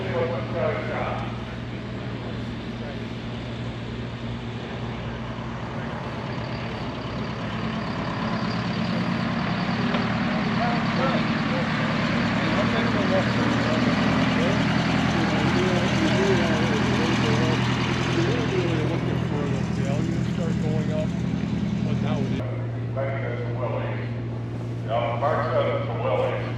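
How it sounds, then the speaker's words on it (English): A Dodge pickup truck engine at an antique truck pull show drones steadily and loudly, rising to a heavier roar in the middle before easing off, with a crowd and an announcer talking over it outdoors. "Now, I'm guessing that this guy must have something special in this Dodge pickup truck"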